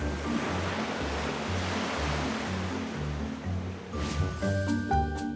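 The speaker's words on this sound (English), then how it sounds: "Do you remember the sound the water made when we were on the beach?" Ocean waves wash in a continuous surging roar, with low tones underneath and a few clinking sounds near the end.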